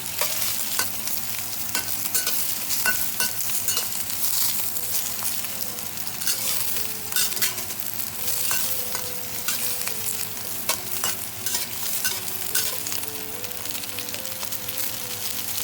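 Green peppers tossed and stir-fried in a wok over high heat, a loud continuous sizzle broken by repeated scraping and clattering of the spatula, close up and without talk.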